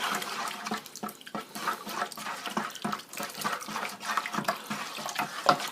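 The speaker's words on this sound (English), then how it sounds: "I'm going to continue to stir and get that pretty well" Liquid sloshes and splashes in a plastic fermenter as a Vino Italiano wine kit mixture is stirred, with irregular swishing strokes that hold steady throughout at close range, no voices.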